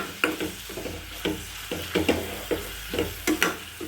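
Onions and green chillies frying in sesame oil, a soft background sizzle broken by rhythmic spoon or spatula strokes against the pan, about two per second, close and moderately quiet.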